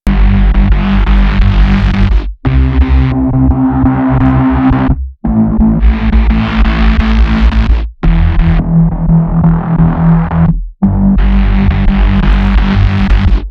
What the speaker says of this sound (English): Here's a before and after of the distortion.